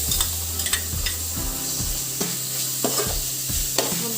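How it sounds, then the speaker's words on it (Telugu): Onion paste fries in a pan for a fish curry, with a constant close sizzle broken by several sharp scraping stir strokes at irregular intervals. No talking is heard. "ఉల్లిపాయ ముద్ద వేగుతున్నప్పుడు ఈ విధంగా మూత పెట్టుకోండి"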